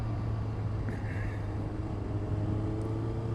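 A car cruising on a Sunday ride-out, a steady, close engine drone with continuous road rumble and no break in the sound.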